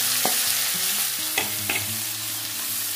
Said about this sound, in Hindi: अब हम इसमें डाल देंगे हमने जो टमाटर काट लिए हैं और हरी मिर्च